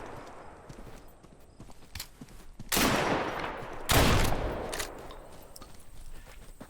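Gunfire in the survival shooter game Deadside at night: two loud, sharp bursts a second apart stand out over quieter background ambience.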